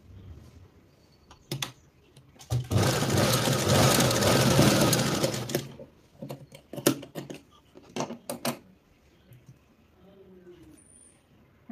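A sewing machine runs one loud, rapid burst of stitching for about three seconds on a princess blouse, surrounded by sharp clicks and taps of handling the fabric and machine.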